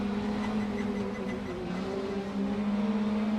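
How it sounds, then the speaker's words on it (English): Engine drone and tyre roll from a car in the racing game Assetto Corsa, a steady, continuous hum and whir that holds level throughout with no talking over it. "I live for tyre sounds."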